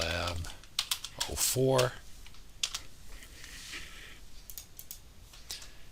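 Quick bursts of clicking on a computer keyboard as a folder name is typed, loudest in the first two seconds and then fading to scattered taps beneath a man's quiet speech.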